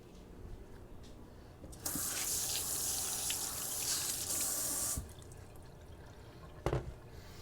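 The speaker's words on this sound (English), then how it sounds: "Wash them down, wipe them off." A kitchen tap runs in a steady, loud rush for about three seconds as vegetables are rinsed under it, with a few faint knocks before and after.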